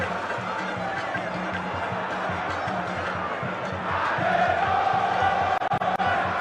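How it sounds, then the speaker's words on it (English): Football fans in a stadium at an Asante Kotoko versus Hearts of Oak match make a steady distant crowd roar that swells louder partway through, with a rhythmic chant and drumming underneath and a commentator talking over it. "And the fans will keep on cheering both sides on."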